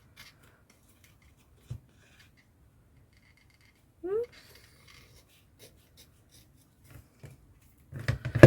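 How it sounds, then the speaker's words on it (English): Small scissors snip paper for a junk journal. A few sparse, crisp cuts stand out in a quiet room, followed by a brief burst of louder handling and rustling at the end. "I'm going to come in with my little scissors"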